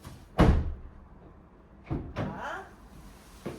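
The sliding door of a fourth-generation Kia Carnival fitted with a power side step closes with one loud, close thud, followed by two quieter latch clunks.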